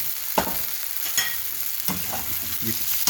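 Soy sauce spread around a hot pan of cooked onions, tomatoes and garlic, giving a loud continuous sizzle with a few scraping strokes of a utensil, close up and without talk.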